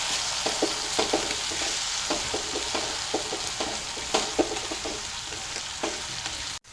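Chopped tomato pieces sautéing in a pan for paneer masala, a steady sizzle with a series of soft scraping stirs of a spoon at irregular intervals, close and continuous with no talking.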